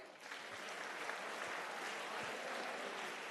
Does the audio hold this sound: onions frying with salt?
no